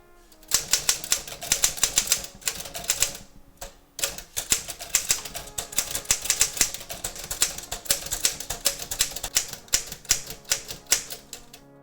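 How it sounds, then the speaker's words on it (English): A Royal HH office desk typewriter is typed on rapidly: dense bursts of sharp keystroke clacks with a brief pause partway through, loud and close, with no voices. "So let's do a little type test."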